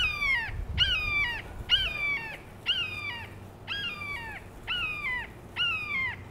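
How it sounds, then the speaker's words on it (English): A large bird perched atop a tall tree outside calls in a steady series of about seven harsh, descending squawks at an even pace, moderately close over quiet background hum. "I wish I could show you this bird,"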